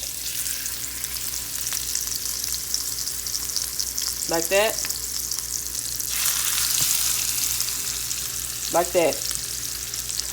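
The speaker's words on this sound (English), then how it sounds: "Now that I put it in a frying pan," Steady, broad sizzling of salmon frying skin-down in a hot pan with butter and honey, with two short scraping strokes and a brief voice faintly underneath.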